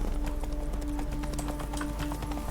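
Hoofbeats of Roach, Geralt's horse in The Witcher 3, galloping at a fast even rhythm, close and sustained for the whole stretch with a faint game ambience underneath.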